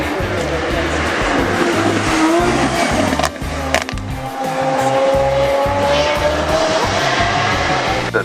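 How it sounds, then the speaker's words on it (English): A loud Lamborghini racing car's combustion engine roars and shifts gears continuously, with tires squealing and pitch rising as it accelerates close by. "slightly more traditionally fueled with internal combustion engine, as you'd hope from a Lamborghini"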